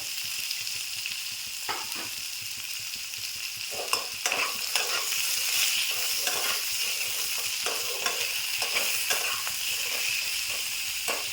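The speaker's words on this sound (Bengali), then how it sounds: "ডাঁটাগুলো দিয়ে 2 মিনিট নেড়ে নেব। এবার একটা টমেটো দিয়ে দিলাম।" Vegetable stalks and tomato stirred and frying in a pan with potato, a steady bright sizzle broken by repeated scraping knocks of the spoon, close and continuous with no talk.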